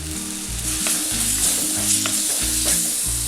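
Curry leaves and lengthwise-slit green chillies crackle in hot oil over cooked spice powder for a Kochi-style egg curry, a steady, close, loud sizzle with a low tonal backing underneath and no talking.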